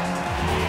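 Tire squeal and engine roar from a car drifting in the racing video game Midnight Club Los Angeles, a brief, continuous loud screech with a droning motor underneath.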